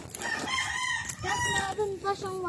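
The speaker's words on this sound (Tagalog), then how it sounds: "Mga manok nila guys." Roosters crow loudly and nearby at a Philippine chicken farm, several overlapping calls with clucking hens in the background over about two seconds.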